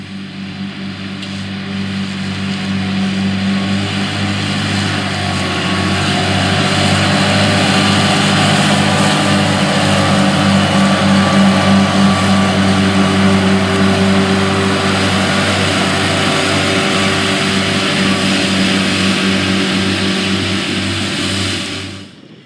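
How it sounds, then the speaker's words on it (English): A John Deere 8245R tractor rated at 245 engine horsepower, pulling a 29-foot 9-inch CLAAS DiscoTriple mower through alfalfa, runs with a loud, steady engine drone and mechanical hum that builds slightly and holds, no voices. "This farm utilizes a 245 engine horsepower John Deere 8245R tractor equipped with a 29-foot 9-inch CLAAS"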